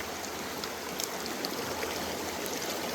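Continuous rushing flow of water pouring through a gold prospecting sluice on Pennsylvania glacial till, a steady close wash with faint splashes and no talk.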